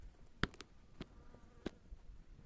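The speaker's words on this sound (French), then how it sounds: "Ça m'énerve cette guêpe." A wasp buzzes faintly in open countryside near a small campfire, a thin drone broken by several sharp, close clicks and knocks.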